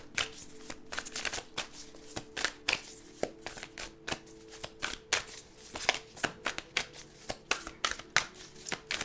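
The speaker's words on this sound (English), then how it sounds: "let me get the rest of the cards out." Tarot cards being shuffled by hand, a steady run of sharp riffling slaps and flicks repeating close up over several seconds, with no talking.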